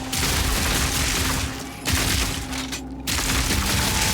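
Dense, continuous gunfire and blasts from a Shockburst Legionnaire build in the action game Path of Exile 2, loud and relentless with two brief dips in the barrage.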